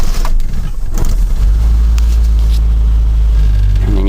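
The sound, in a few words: 1985 Mazda B2000 ute engine running while driving out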